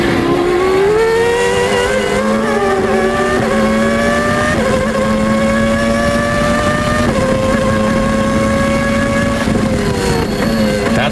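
Formula One race car engine screaming at high revs, with brief pitch drops at automatic gear changes before the note climbs again, loud and continuous throughout.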